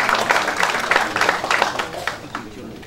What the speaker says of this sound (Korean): 성의 박수를 보내주셨습니다